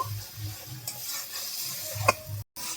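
Ground coriander, turmeric and red chilli powder are stir-fried in a pan, a close sizzle under rhythmic scraping strokes of a spatula, with one sharp clack.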